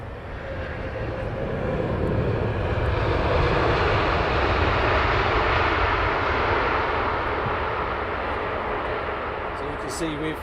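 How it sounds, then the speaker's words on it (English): Thai Airways Boeing 787 Dreamliner arriving at Heathrow, a broad sustained jet roar that swells and holds at moderate distance, fading slightly toward the end. "Thai Dreamliner."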